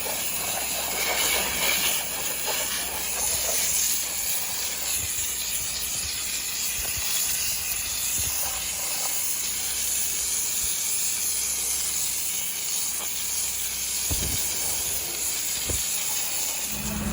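An M5 pressure washer rinses a roof with a steady, loud, continuous hiss of spraying water. The hiss holds through the whole clip with no speech, and a couple of brief low thumps come near the end.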